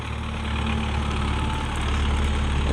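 An MTZ 952 tractor pulls a ChN1500 subsoiler through a soybean field, its engine a loud, steady, low drone heard close.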